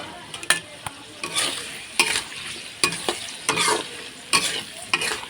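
Potatoes and flat beans cook in a covered pan, giving a steady close sizzle broken by repeated scraping and clattering stirs; no one speaks.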